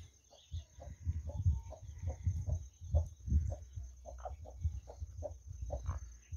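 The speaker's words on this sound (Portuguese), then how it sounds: "dessa galinha aqui com os pintinhos dela" A hen clucks softly with her chicks on a farm in grassy brush, steady low clucks repeating in a loose rhythm with faint higher peeps, close and quiet.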